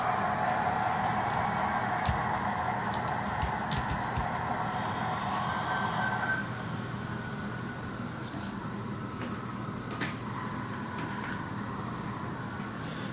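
An Athearn Genesis Norfolk Southern SD70ACe model locomotive with Tsunami2 sound and DCC runs with a steady diesel rumble and faint horn-like tones that fade after a few seconds, left alone at low volume.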